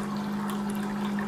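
Zojirushi hot water boiler with a freshly unclogged pump dispensing water, a steady pouring trickle with a low constant motor hum underneath, close and even throughout.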